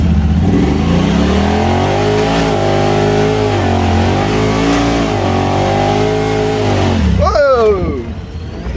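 A Talon RC truck driving over bumps makes a loud, close motor whine that rises and falls with throttle changes, then drops sharply near the end.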